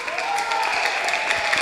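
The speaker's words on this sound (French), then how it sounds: "Vos applaudissements s'il vous plaît." A congregation at a French-language church gathering breaks into applause, a dense continuous wash of clapping with some cheering and voices mixed in.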